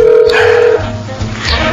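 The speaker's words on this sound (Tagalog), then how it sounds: "nagre-ring na ang cellphone ni Marisa." A mobile phone rings in a Filipino drama scene, a steady electronic ringtone tone sounding loud and close for under a second before fading into room noise.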